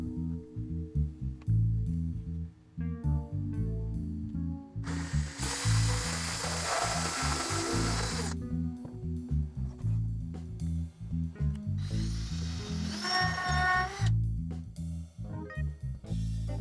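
A power drill bores holes in wood during a coffee table makeover, with two loud sustained whirring bursts standing out over a steady rhythmic mechanical ticking pattern.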